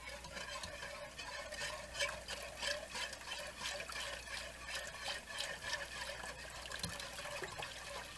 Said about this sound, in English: And now you want to pour in all of your milk.